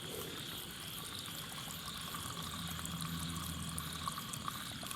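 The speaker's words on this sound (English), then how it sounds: "and that's the amount of water that's coming down now" Rainwater runs down from a flooded pond in a steady, continuous trickling flow, fairly faint and heard alone throughout.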